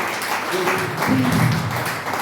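Audience applause welcoming lecturer Dr. Harrison Kofi Belley at a constitutional day lecture on parliamentary democracy, steady clapping from a crowd filling the room throughout, with a voice speaking over it.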